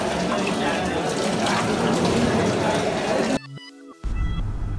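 Running tap water splashing into a sink as plates are washed at a college mess, a steady close rush that cuts out briefly near the end before resuming, with faint voices in the background.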